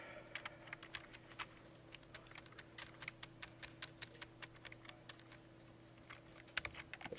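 Rapid, steady clicking of keys on a computer keyboard, close and fairly quiet over a faint electrical hum, with irregular bursts of keystrokes and no voices.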